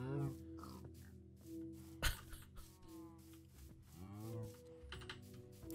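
Cows in the Minecraft video game moo several times in a busy farm scene, drawn-out low calls repeating over a steady background of game sounds and other animal noises, with one sharp loud hit near the middle.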